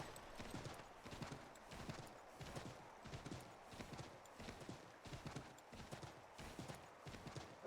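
Horse hooves clip-clop in a steady, rhythmic trot while a rider travels through a wintry setting in Assassin's Creed III. The hoofbeats are even and fairly faint, with no talking over them.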